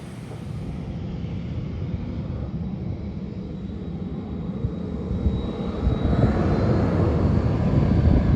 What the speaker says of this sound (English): after we watched our aircraft take off back to Anchorage